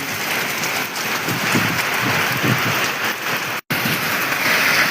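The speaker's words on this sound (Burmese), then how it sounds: "မိုးရွာတာတော်တော်ဆိုးတယ်" Heavy storm rain pours down in a steady, dense, loud roar with no voices, broken only by a split-second gap near the end.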